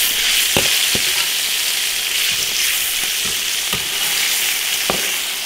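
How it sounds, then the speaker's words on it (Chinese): Fish frying in hot oil in an iron wok with Sichuan peppercorns, ginger, pickled chilies and chili paste, giving a steady close sizzle with a few sharp crackles and spatula scrapes scattered through it. "鱼放进去煎一下，"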